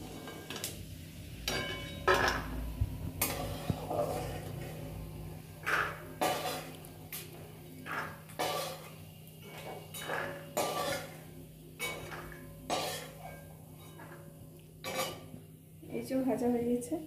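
Fried peanuts being lifted out of hot oil in a pan, with repeated sharp metallic scrapes and clinks of a spoon against the pan at a quiet, steady pace.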